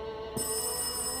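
A telephone rings inside the horror video game Rise of Insanity, a steady electronic ringing tone with no one speaking over it.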